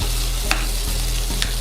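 Ingredients for creamy Tuscan chicken with sundried tomatoes and spinach sizzle steadily in a frying pan while being stirred, a continuous close frying hiss with a couple of soft utensil scrapes, no talking.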